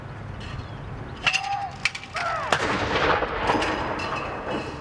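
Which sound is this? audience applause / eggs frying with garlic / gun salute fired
gun salute fired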